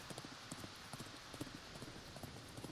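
Horse hooves clip-clop in a steady trotting rhythm in the video game Thronefall, faint and even beneath a soft background wash.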